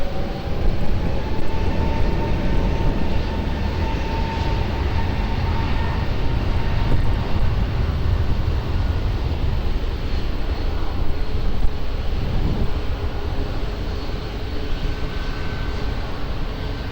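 Lufthansa airliner taking off from runway 20 at Lisbon Airport, a steady broadband engine roar that holds strong and even throughout, heard from a distance without nearby talk.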